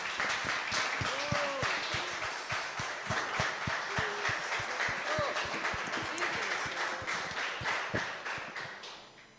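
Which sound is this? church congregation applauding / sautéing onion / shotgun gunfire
church congregation applauding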